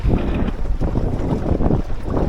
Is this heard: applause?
no